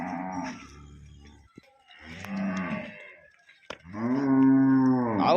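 A large pregnant cow close to calving moos three times at close range in long, deep, drawn-out calls. Each moo is separated by a short pause, and the last call is the loudest.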